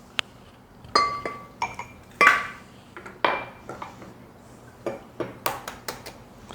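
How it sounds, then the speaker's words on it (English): Eggs are cracked against a bowl for walnut cake batter, giving a series of sharp clinks and taps at irregular intervals, close and clear, with the clatter of dishes between them. "Then to that, I'm going to add 4 eggs."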